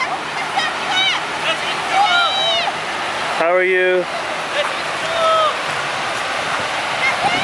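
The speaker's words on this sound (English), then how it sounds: "there's waterfalls." A waterfall along a trail gives a constant rushing roar of falling water. People chat and trade greetings close by over the water throughout.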